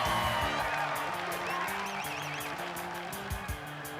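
Crowd at a 2005 Bassmaster weigh-in on Clarks Hill, cheering and whooping at a steady roar for the winner, with music and an amplified voice running under the noise.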